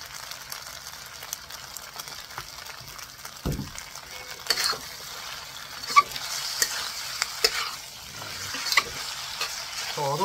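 Shrimp stir-frying in oil for pad thai, a soft continuous sizzle broken by occasional sharper clicks and scrapes of stirring, fairly quiet and close, with no speech.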